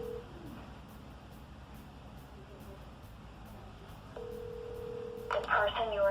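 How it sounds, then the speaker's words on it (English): Telephone tones sound as a call is placed on a phone: a short tone near the start, then a steady single tone from about four seconds that gives way to a brief burst of mixed tones at the end, over faint room noise. "I'm going to call them again."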